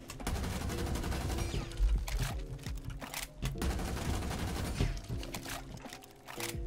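Rapid bursts from a .50 cal SMG in the video game Rainbow Six Siege crackle in dense volleys, with brief pauses between strings of shots and a busy, layered game soundscape beneath.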